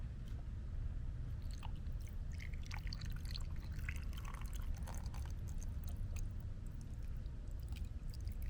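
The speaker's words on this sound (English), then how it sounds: "add water to the barrel until the water just covers the top of the rocks" Water poured into a rock tumbler barrel over rocks, giving irregular splashing, trickling and clinking over a steady low hum.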